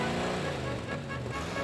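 Several cartoon race car engines start and rumble together at a start line, a short burst of steady, buzzy motor noise at moderate loudness.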